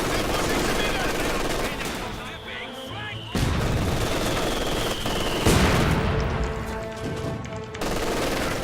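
Machine gun fire in the World War II strategy game Company of Heroes 2, bursts of rapid shots with distant booms mixed into a dense battle soundscape, loud throughout.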